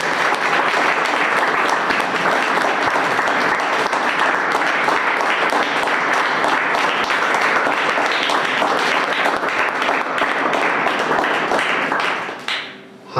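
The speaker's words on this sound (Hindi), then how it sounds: "क्या हम सेवक भाई की सराहना के लिए ताली बजाएंगे?" Church congregation applauding their preacher, a loud, sustained wash of many hands clapping together, steady for about twelve seconds before abruptly cutting off.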